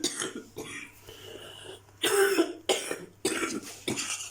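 An elderly woman coughs several times in short, harsh bursts, close by and fairly loud, with quiet pauses between the coughs.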